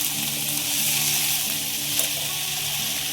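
Fresh fenugreek leaves hit a pan of frying onion with a steady close sizzle while being stirred, the hiss holding even across a few seconds.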